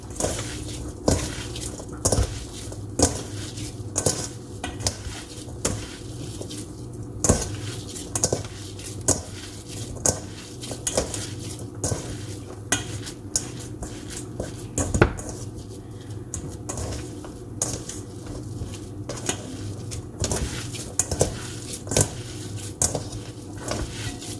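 Impossible plant-based burger meat kneaded by hand in a bowl, a steady run of close, soft squishing pats and light knocks against the bowl repeating in an even rhythm.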